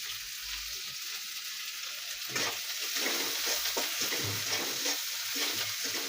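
Sliced onion and green chili frying in a pan with salt, a soft, continuous sizzle with occasional stirring scrapes, fairly quiet throughout.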